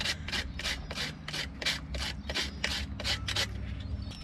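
Steady back-and-forth rasping as a corroded part from a Volvo Penta marine engine block is smoothed by hand, about a dozen even strokes in a regular rhythm, close and fairly loud over a low background hum.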